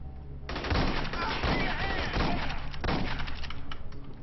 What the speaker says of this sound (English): The shotgun's pretty awesome for a pump. You can just keep, shooting.